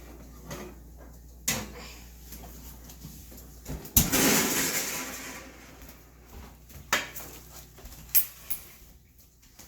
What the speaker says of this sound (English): I'm going to take them out of the oven.